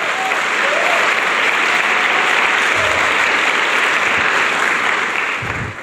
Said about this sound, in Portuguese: Pode aplaudir essa igreja.